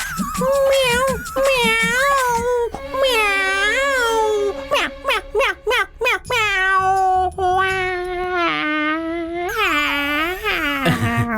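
A man imitates a cat, giving a run of drawn-out and short meows in a high, whiny voice, close and loud.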